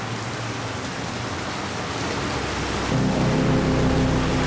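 Steady rain pours down in a hiss of broadband noise, growing heavier and louder for the last second or so, with a faint low tone underneath.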